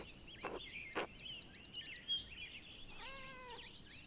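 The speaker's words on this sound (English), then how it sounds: "I hear a kitty." A cat meows inside the video game Pentiment, one clear drawn-out meow near the end over soft chimes and game ambience.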